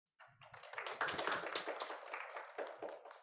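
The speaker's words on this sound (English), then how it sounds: "Once again, let's give a round of applause for them." Applause for speakers at a visiting professor event, a short burst of close hand clapping starting abruptly and fading after about three seconds.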